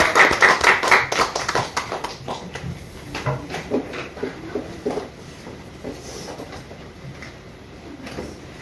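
A church congregation claps to welcome a pastor to the front, the claps loud and rhythmic at first, then thinning and fading to scattered faint taps.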